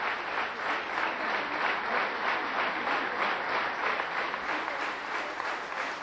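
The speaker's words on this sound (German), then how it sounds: "Applaus" Sustained applause from a concert audience at a choir event in Annaberg in the Erzgebirge, a dense, even wash of clapping that holds steady throughout without breaks.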